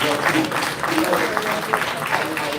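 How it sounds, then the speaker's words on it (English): Applause from a summit audience after a woman's presentation, a continuous wash of many hands clapping, fairly loud and even, with a voice talking over it. "Let's give her a round of applause."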